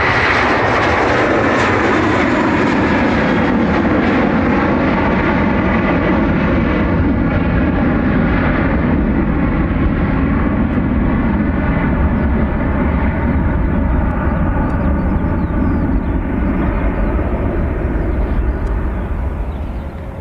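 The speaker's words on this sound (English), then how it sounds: "It's the A321 Neo on your screen, off to JFK." A JetBlue Airbus A321neo at Dublin Airport's north runway roars loud and steady, its jet engines holding a broad rumble for the whole span with no voices heard.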